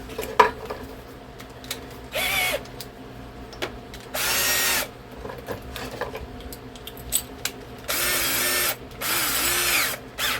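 A power drill bores holes while a boat seat is being reupholstered, sounding in four short, loud, whirring bursts separated by quiet pauses.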